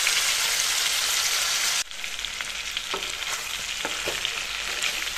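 Chicken meat for a mango chicken curry fries in a pan, a loud steady sizzle that suddenly softens, then continues with lighter crackles and stirring clinks close by.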